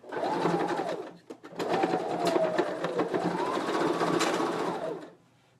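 A sewing machine hems fabric in steady, close whirring runs, with one brief pause partway through before the stitching resumes and then stops.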